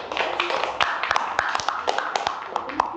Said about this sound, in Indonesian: Tepuk tangan untuk penampilan kelompok 2.